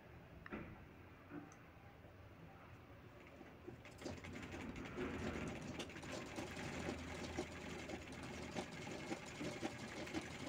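A sewing machine stitches velcro onto a cloth bag. A quiet start gives way to a steady, close, rapid mechanical whirring and ticking that runs on continuously.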